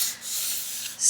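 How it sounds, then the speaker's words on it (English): Hand sanding the painted body of a vintage Singer 201 sewing machine: a close, soft, steady rubbing hiss in long strokes with brief dips between passes. "I'm just basically sanding it by touch"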